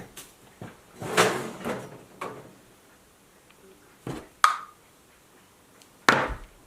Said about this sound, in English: Look what I just pulled out of my drawer.